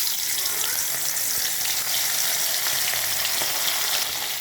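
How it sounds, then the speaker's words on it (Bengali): Fish sizzles and spits steadily in hot mustard oil in a wok over a medium flame, a close, continuous crackling hiss with no talking. "এবার আমি ভাজবো মাছ।"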